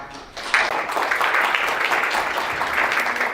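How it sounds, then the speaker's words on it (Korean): An audience at an economic outlook forum applauds to welcome a speaker, a dense, steady wash of clapping that swells in after a brief pause and holds at an even level. "역시나 뜨거운 박수로 맞이해 주시죠."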